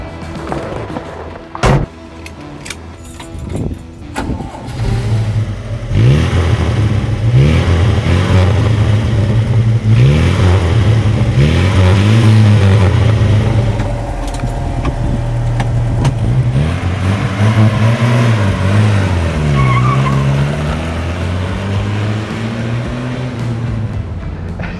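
A Chevrolet Opala with a four-cylinder engine accelerates on São Paulo streets, its loud mid-pitched engine note climbing repeatedly through the gears in rising sweeps, heard from inside the car with no talking.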